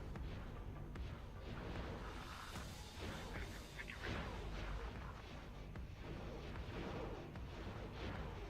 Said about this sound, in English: Shooting into the swarm.